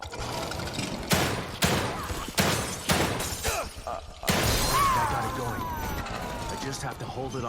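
Gunfire in The Evil Within 2 cracks out in a series of sharp, separate shots with a shattering edge, followed by a longer crashing burst and fading ringing tail.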